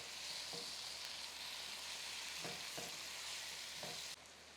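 Chopped tomatoes and spices sauté over a low flame for a taro gravy, giving a soft continuous sizzle with a few faint spoon scrapes, quiet and steady until it drops away near the end.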